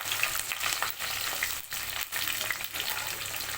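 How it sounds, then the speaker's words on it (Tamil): Onions, green chillies and curry leaves sautéing in hot oil, a dense continuous close frying crackle with occasional soft stirring scrapes, alone without talk. "இது எல்லாத்தையும் போட்டுக்கலாம் போட்டு நல்லா வதக்கிட்டு"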